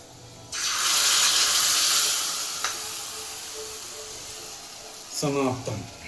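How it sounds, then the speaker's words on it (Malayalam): Cashews and raisins dropped into hot ghee for payasam, a sudden loud hissing sizzle that slowly fades, followed by a short burst of talk near the end. "ഇനി അതേ നെയ്യിൽ തന്നെ നമുക്ക് അണ്ടിപ്പരിപ്പും അതുപോലെ മുന്തിരിയൊക്കെ വറുത്തെടുക്കാം."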